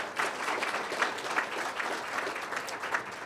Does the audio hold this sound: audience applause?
yes